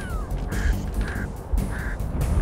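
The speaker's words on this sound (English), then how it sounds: "Okay, that was birds." Birds call in the Halo Reach game, a few short harsh squawks and quacks repeating over a low rumbling game background.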